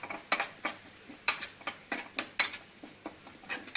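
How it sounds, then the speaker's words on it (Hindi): Whole coriander seeds, dried fenugreek and red chili stirred in hot oil for a tempering, with a spoon tapping and scraping the pan in a series of sharp, irregular clicks over a faint background hum. "इसको स्टर करेंगे"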